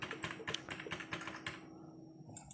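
Login details being typed on a computer keyboard: rapid, uneven clusters of close key clicks that stop short near the end, with no talking.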